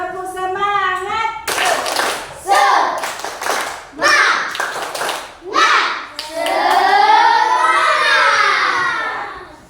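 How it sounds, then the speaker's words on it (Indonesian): A group of children in a classroom does a rhythmic spirit clap, with short bursts of hand claps alternating with loud voices calling and chanting, ending in a long sustained group shout. "Ayo, tepuk semangat."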